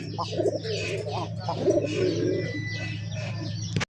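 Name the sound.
Giribaz tumbler pigeons cooing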